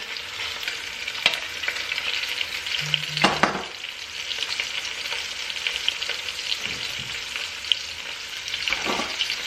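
Short ribs sear in a pan for braising, a loud continuous frying sizzle with scattered spits and pops and occasional scrapes as the meat is moved.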